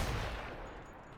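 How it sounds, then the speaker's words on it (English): Loud gunfire from a weapon in The Outer Worlds video game, a dense booming burst that fades out over about a second, close and alone with no voices. "That gun is so goddamn loud, it is unreal."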